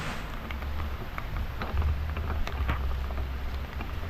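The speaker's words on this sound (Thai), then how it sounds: "ฝนตก" Steady heavy rain pours outdoors at a rural Thai rice field, a dense hiss of drops with low thunder rumbling underneath and occasional closer drip taps.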